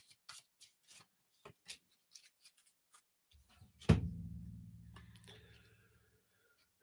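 Oracle cards being shuffled with soft flicks and taps, then a firmer riffle and thud that trails off; close and quiet, with no speech.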